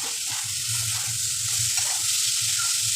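Ridge gourd frying in oil with sesame, a steady close sizzle with faint bubbling and a low hum beneath, unbroken and fairly quiet throughout.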